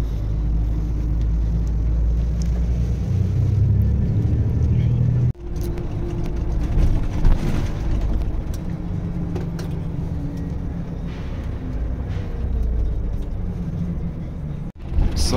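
Continuous low rumble and whir of a comfortable coach bus driving on the road from Medjugorje to Split, steady cabin engine noise heard from inside, with two brief dropouts.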